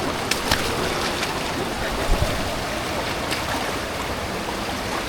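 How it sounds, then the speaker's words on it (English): A mountain stream on the way to a waterfall on Mount Rinjani rushes steadily, a dense, even wash of flowing water that stays continuous and fairly loud throughout. "we need to cross certain stream to get to the waterfall"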